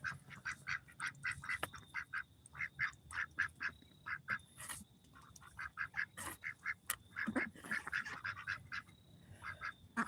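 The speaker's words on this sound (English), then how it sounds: "Oh, hey, ducks." A flock of farm ducks quacks steadily in rapid, overlapping bursts at close range, a continuous clamor of nasal calls with no talking.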